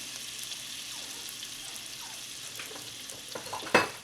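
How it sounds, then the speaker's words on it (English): Butter and flour roux cooks in a pan for a vegan gravy, sizzling and frying steadily up close, with faint stirring scrapes and a brief louder clatter near the end. "I've put about 2 tablespoons of butter, and I'm matching it with 1 tablespoon of flour, because we're going to make a quick roux for our gravy"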